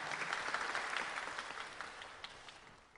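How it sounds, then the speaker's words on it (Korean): An audience at the 2020 Jinju Song Festival gives a sustained round of applause, a thick wash of many clapping hands with occasional louder claps, gradually easing off. "여러분 박수 한번 주십시오."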